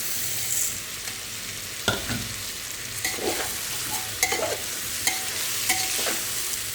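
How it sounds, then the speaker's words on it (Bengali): Rice and lentil mix with cumin powder frying in a pan for vegetable khichdi, with a low background sizzle broken by repeated scraping stir strokes and spoon clinks at an irregular pace. "তো এটাকে ভালো করে একটু ভাজা করে নিতে হবে, তাহলে খিচুড়ির কালারটা খুব সুন্দর হবে"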